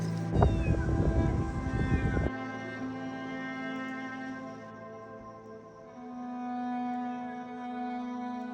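A cat meows repeatedly while stuck up in a tree, the calls fairly close and clear, with a burst of loud rustling or scraping in the first couple of seconds before the meows continue alone.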